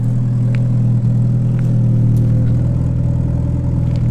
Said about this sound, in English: Just to let you hear that exhaust note.